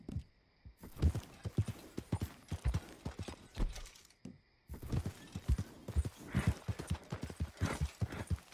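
Horse hooves in Red Dead Redemption 2 clip-clop in a steady walking rhythm, close and crisp, pausing briefly midway before the footfalls resume.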